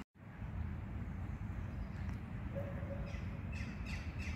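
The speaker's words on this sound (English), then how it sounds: "A bunch of seagulls," Distant seagull calls sound faintly a few times over a steady, noisy outdoor rumble, with pigeons and ducks nearby.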